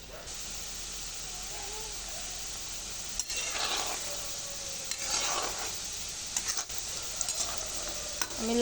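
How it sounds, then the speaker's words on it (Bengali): Katkati, crunchy wheat-flour dough snacks, frying in mildly warm oil, giving a faint continuous hiss with gentle stirring scrapes and a few light clicks, quiet and close. "হালকা গরমেই আমি কটকটিগুলো ভেজে নেব"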